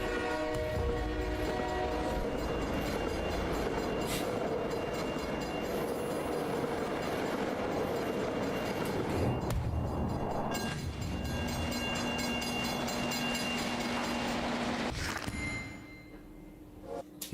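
A train rolls through a level crossing in a video game trailer, a steady loud rumble of wagons on rails with horn blasts and bell-like ringing, continuing for most of the span before fading toward the end.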